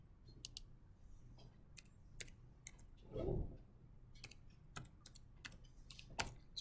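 Close, quiet typing on a computer keyboard: scattered individual key clicks in an uneven rhythm with short pauses, one duller thump midway, and no voices.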